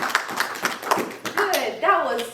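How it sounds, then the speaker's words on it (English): Workshop participants clap for themselves during a Kiswahili language class, a burst of quick hand claps over the first second and a half mixed with a voice, followed by speech. "clap for yourselves."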